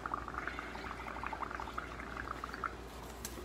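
Bubbling and gurgling from air blown through a straw into a bowl of bubble paint, a continuous soft frothy burble at close range.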